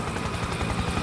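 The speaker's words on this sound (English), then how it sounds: "Incoming helo." Helicopter in Spec Ops The Line, a military shooter game: a dense, loud, continuous rotor roar with fast low chopping pulses filling the short stretch, no voices over it.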